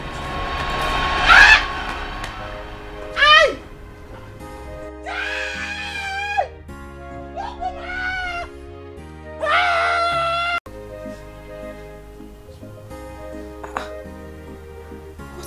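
A woman screams loudly in several sharp bursts during a domestic drama, with pauses and background music between the cries.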